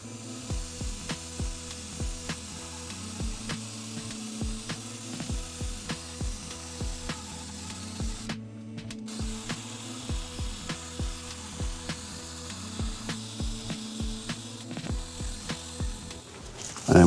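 Slow, steady scrubbing of a wire brush working old gasket material off an aluminium plate, a continuous gritty rasp with regular back-and-forth strokes close up, a brief louder scrape midway, no voices.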